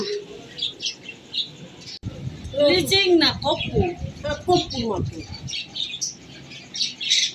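Pet birds squawk and chirp in short bursts throughout, while someone talks over them close by.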